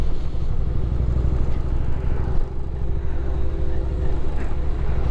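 A 2006 Yamaha Road Star cruiser motorcycle rumbles steadily on a test ride, its deep engine loud and close. Road and wind noise blend in, with a brief dip midway.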